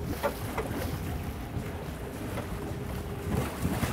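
A fishing boat backing down at sea while reeling in a mutton snapper, a steady engine drone with wind buffeting and sloshing water around the hull, no voices.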